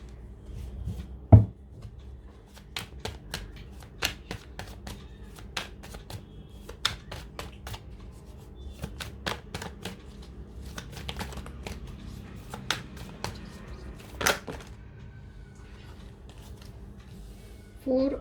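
Tarot cards are shuffled and handled, giving repeated crisp snaps and riffles, close and fairly quiet, while a voice talks softly at times.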